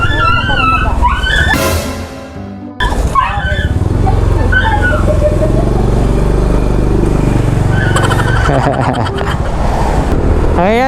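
Motorcycle fitted with an Exos X6 exhaust pipe carrying a passenger, engine revving and pulling away loudly with rising pitch, rough exhaust bursts and a brief drop mid-clip, close to the microphone.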